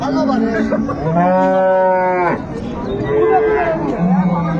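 Close, loud moos come from a dairy cow and calf at the Ambari cattle market in Dinajpur: a long bellow followed by a softer, shorter call, with market voices in the background.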